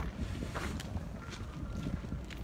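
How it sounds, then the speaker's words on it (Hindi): Strong, steady wind buffets the microphone outdoors near Capitol Hill shortly before a presidential inauguration, a continuous low roar with gusty fluctuations and no speech. "शुरुआत में ऐसा लगा कि हल्की हवा है लेकिन बहुत तेज़ हवा चल रही है"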